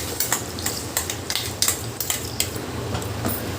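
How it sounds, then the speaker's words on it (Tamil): A ground paste sautés in melted butter in a pan, a soft sizzle under repeated sharp clinks and scrapes of a metal spoon against the pan in an uneven rhythm. "ஸோ நம்ம பேஸ்ட்டை வந்து நல்லா நான் சாட்டே பண்ணிட்டு இருக்கேன்"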